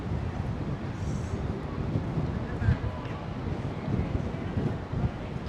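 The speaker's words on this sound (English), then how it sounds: "It's windy." Wind gusting across a microphone on the elevated High Line park in New York City, a steady broadband rumble and buffeting that runs throughout with a few stronger gusts and faint background voices.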